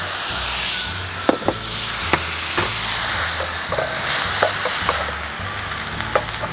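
Chicken and sweet peppers sizzle steadily in a hot pan while a utensil scrapes and clacks against it in irregular strokes, with no talking.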